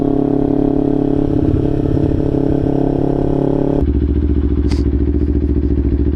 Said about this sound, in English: I can fall asleep listening to this exhaust